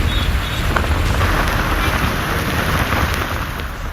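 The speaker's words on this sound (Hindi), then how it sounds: "तेज हवाएं चल रही हैं। समंदर में ऊंची ऊंची लहरें उठने लगी हैं।" Cyclone Ditwah brings strong winds and high sea waves near Rameswaram on the Tamil Nadu coast, heard as a loud, unbroken roar of wind and surf filling the whole stretch without talking.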